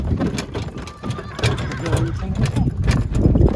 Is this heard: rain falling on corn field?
no